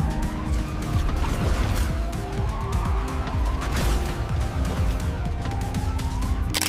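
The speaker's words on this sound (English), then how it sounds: "a high-speed car chase through a futuristic city with flying cars, glowing skyscrapers, and motion blur" AI-generated soundtrack for a high-speed car chase through a futuristic city with flying cars, loud and dense with roaring engines, tire skids and wailing sirens sweeping up and down over constant rumble.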